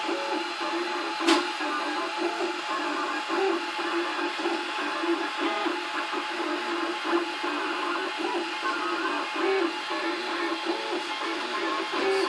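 A steady mechanical whirr with a repeating clicky rhythm runs continuously, moderately loud, from a Cubify Cube 3D printer at work, with no talking.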